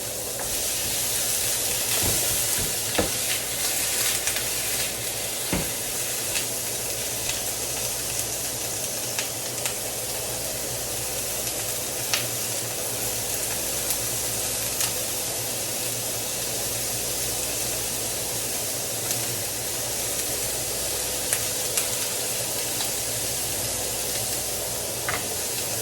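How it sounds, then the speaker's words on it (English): Ground meat browning for chili sizzles in a pan with a continuous loud hiss, broken by occasional crackles and faint stirring scrapes, heard close up with no talking. "we just want to get a nice, browning on as many of the sides"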